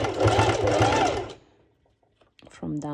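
A sewing machine stitches through several layers of fabric on a sporty color-block top, a loud steady mechanical whirring for about a second and a half, then stops, with a voice talking afterward.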